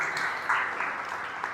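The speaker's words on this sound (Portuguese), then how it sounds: "Pode dar uma linda salva de palmas a Jesus" A church congregation claps together in a brief, moderately faint burst of applause, a steady patter of many hands with a few sharper claps standing out.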